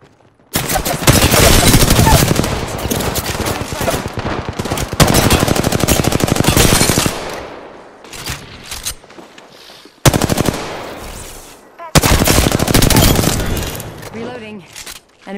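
Rapid automatic gunfire from an Apex Legends match, loud sustained bursts of several seconds each separated by short pauses, with a voice speaking in between.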